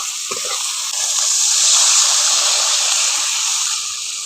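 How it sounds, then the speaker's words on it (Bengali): Water poured onto sizzling fried spice paste for an ol kofta curry, a loud steady hissing sizzle that swells after the first second and holds, with a brief knock near the start. "এবার জলটা দিয়ে দিচ্ছি।"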